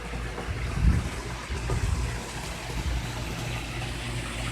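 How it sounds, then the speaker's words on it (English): Water running steadily from a backyard pool waterfall, a soft continuous splashing wash with low rumble, faint and alone. "You have a constant waterfall going"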